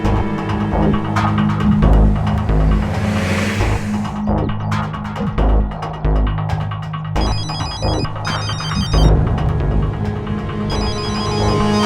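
A telephone ringtone chirps in repeated electronic bursts over a loud, droning musical score in a tense crime-drama scene, with no talking.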